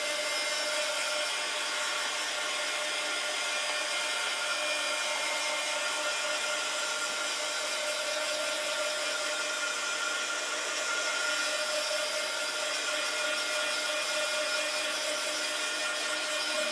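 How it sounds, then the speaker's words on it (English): A heat tool blasts hot air onto fresh paint, a steady, unbroken high-pitched whir with a broad hiss that holds at an even level throughout, close by and with no voices. "I'm just going to give it a quick blast with the heat tool"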